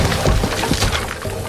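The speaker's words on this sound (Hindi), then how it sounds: "अपनी गाड़ी भिड़ी और एक्सीडेंट हो गया।" A car smash in a horror video game, a loud burst of shattering and splintering crash noise filling the short moment alone, with no talk.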